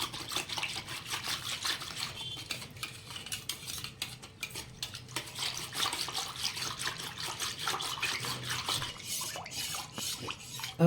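Garlic, ginger and chili paste stirred into a kadhi mixture, a spoon scraping and clinking steadily against the vessel with a wet, sloshing texture throughout, close and moderately loud, with no talking.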